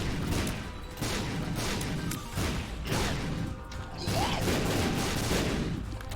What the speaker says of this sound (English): I can explode things.